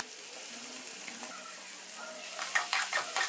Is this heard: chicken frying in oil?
yes